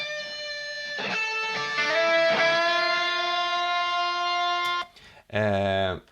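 A sustained whistled melody, recorded in a bathroom and doubled an octave apart, smooth held tones with a few note changes, then a brief higher pitched vocal-like phrase at the end.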